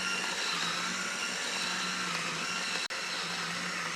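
A portable USB coffee grinder grinds coffee beans in a steady, continuous motorized whir with a constant hum and bright hiss, holding level for the full length apart from one sharp momentary dropout near the end.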